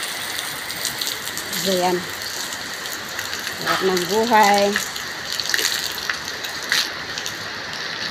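Steady rain falls over a garden setting, a broad continuous wash of water noise throughout, with a person talking briefly over it in two short bursts.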